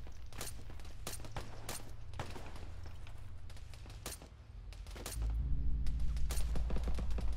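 Video game gunfire in a military campaign set on an African deployment: sharp shots crack in quick bursts and irregular volleys, followed by a louder, heavier low rumble toward the end.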